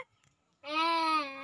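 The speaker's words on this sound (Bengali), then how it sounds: "বাবু কাঁদছে মনে হচ্ছে" A small child lets out a short, high, wavering cry at close range. It follows a quiet moment with faint background sounds.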